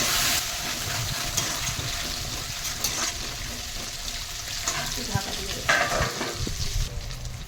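A little water goes into a pan of bitter gourd greens and lote fish chorchori that is already frying, and a loud, steady sizzle and hiss carries on close by with faint stirring scrapes.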